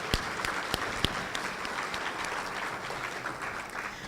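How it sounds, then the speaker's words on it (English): A crowd at the 10th annual Treasure Coast Business Summit breaks into a round of applause, a steady wash of many hands with a few sharp nearby claps standing out, no talking over it. "That deserves a round of applause."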